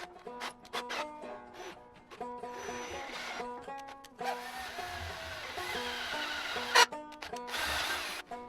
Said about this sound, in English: These little drills are hard to drill with sometimes because you can't tighten them up like the kind that used to have a key